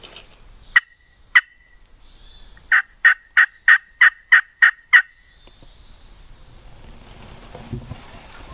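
Wild turkeys gobble on public land during a hunt: two single gobbles, then a loud rapid run of about eight gobbles in quick succession, fairly close, followed by quiet rustling outdoors.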